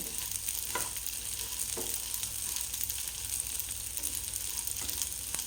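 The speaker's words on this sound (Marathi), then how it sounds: "याप्रमाणे आपण हा तांदूळ इथे छान भाजून घेतला आहे" Rice roasting in a pan for Marathi masala rice, a constant dry sizzle with a few soft stirring scrapes, close and steady with no talk.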